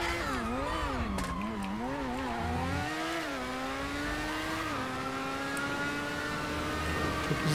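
R88 Formula 1 race car in GTA Online, its high-pitched engine revving and shifting with rising and falling tones, continuous and close, accelerating across the whole stretch.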